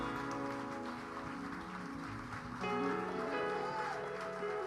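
Continuous congregation clapping at a church celebration service, mixed with music and voices, swelling louder partway through.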